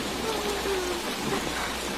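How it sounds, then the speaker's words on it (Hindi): A heavy rain downpour hisses steadily and densely throughout the whole stretch, with a faint voice murmuring underneath. "मूसलाधार बारिश हो रही थी।"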